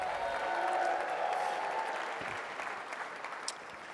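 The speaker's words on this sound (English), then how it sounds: "Let's have a round of applause for her." A faint round of applause from a crowd at a political party event for the head of a progressive think tank, a soft, distant patter of clapping that holds steady before fading a little.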